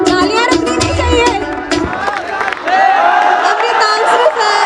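An audience at a school farewell party cheers, whoops and shouts in a loud, continuous crowd roar, with excited voices mixed throughout and a brief dip before it swells again.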